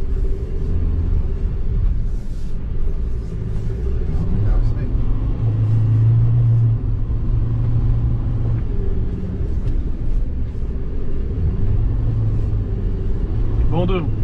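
Automatic 2020 Troller TX4 on mud tyres driving over rain-settled sand, a steady loud low engine rumble with a brief deeper drone mid-way, voices talking over it throughout.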